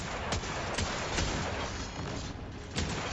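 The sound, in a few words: hand cannon gunfire in video game Destiny 2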